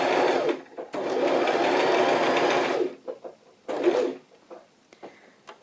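A sewing machine runs a zigzag stitch along fabric in a long steady whirring burst of about two seconds, followed by a brief second run and scattered small clicks and handling noises, close and fairly loud.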